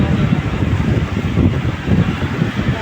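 Strong wind roars and buffets the microphone on 5th Avenue in BGC, with a loud, continuous rumble and no clear voices.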